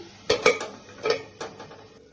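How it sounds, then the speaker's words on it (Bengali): A metal lid set onto a pot of Bengali mutton kosha, giving a few close clanks and knocks in quick succession, then a fainter clink, with no talk. "তাহলে আমি ঢেকে রাখছি।"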